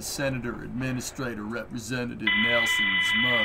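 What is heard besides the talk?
alarm beeping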